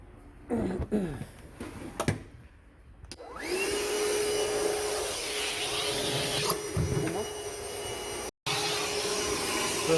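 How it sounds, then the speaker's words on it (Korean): A vacuum cleaner runs inside a used Namaste two-fold camping trailer being refurbished, switching on after some handling noises, then whining loudly and steadily with a brief cut-out near the end. "지금 청소기로"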